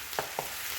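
Beef and potatoes stirred in a pan for a Mexican guisado de carne, two quick scraping strokes over a steady sizzle, close and fairly loud, with no voices.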